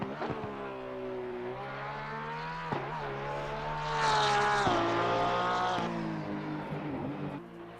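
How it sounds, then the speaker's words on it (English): Porsche race car engine in the racing game Assetto Corsa Competizione, a steady harmonic drone that climbs and swells in pitch midway, with shifts and brief dips, loud and continuous with no talking. "Gotta love the Porsche."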